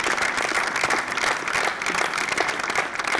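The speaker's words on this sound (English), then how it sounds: "Big round of applause." An audience at a startup pitch competition gives a steady round of applause, dense, even clapping throughout with no talk over it.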